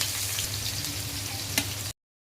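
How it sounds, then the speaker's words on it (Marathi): Masala-coated Bombay duck fish sizzles in hot oil with a loud, close, continuous frying hiss and one sharp pop, then cuts to silence just before the end. "तेल माझं गरम झालं आणि बघा मच्छी अशी टाकून दिली तेलामध्ये"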